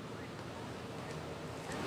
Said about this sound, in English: it's windy out here right now